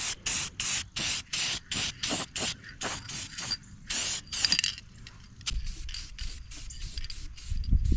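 Spray can painting a Yerf Dog go-kart, a rapid series of short hissing bursts up close, then longer sprays with a rattling undertone toward the end.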